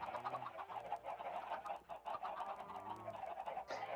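Chickens on a broken video game chicken farm cluck busily and continuously, several birds overlapping in a dense, close, steady chatter with a sharper squawk near the end.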